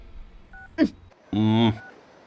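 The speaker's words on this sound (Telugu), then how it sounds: "ఇదిగో లాయర్ ఫోన్ చేస్తున్నాడు" A phone call from a lawyer in a comedy scene: a short two-tone electronic beep, then a brief harsh buzzy tone, with a quick vocal sound between them.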